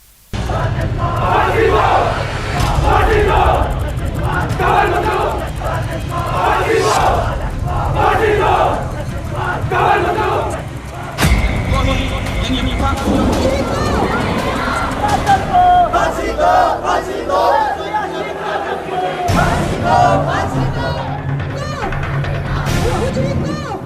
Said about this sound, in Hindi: हजारों लोगों की भीड़ पाकिस्तान मुर्दाबाद के नारे लगा रही है।